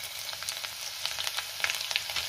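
Crushed garlic dropped into hot oil with mustard seeds and cumin for mung dal varan, crackling and spluttering in quick irregular pops over a steady sizzle, close and alone.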